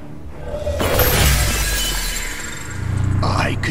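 A city's shield barrier in Marvel vs Capcom Infinite shatters with a loud glassy crash and sweeping whoosh, the breaking debris lingering over a low rumble before a second burst near the end.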